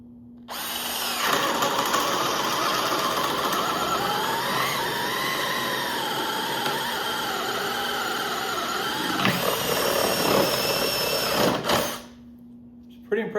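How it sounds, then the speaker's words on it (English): A 24-year-old brushed Ryobi 1802 cordless drill in speed 2 drill mode on a 4-amp high performance battery whines steadily and loudly for about ten seconds, its pitch wavering under load before it winds down and stops. "We'll see what it'll do in speed 2 drill mode with that 4-amp high performance battery."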